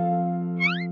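A cartoon kitten gives a single short, high meow near the end, over a steady sustained musical tone in an animated children's show.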